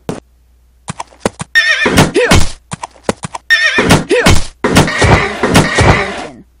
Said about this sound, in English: Horses go in, but get knocked out.